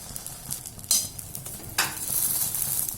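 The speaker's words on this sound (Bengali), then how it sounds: "এতে কিন্তু আমি তেল দিইনি, যেটুকু সামান্য পরিমাণ ছিল সেটাকে দিয়েই আমি পাউরুটিটা সেঁকে নিচ্ছি।" Bread slices toast in a frying pan with a small leftover bit of oil for French toast. A steady soft sizzle runs throughout, broken by two sharp scraping clatters from a utensil against the pan.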